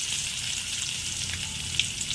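Steady, continuous sizzling of crushed garlic frying in hot oil, close by, with a faint pop near the end and no voices.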